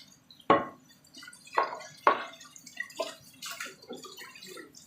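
Boiled meat being rinsed with water, a few distinct splashes and drips with gurgling in between, close and moderately quiet with no speech.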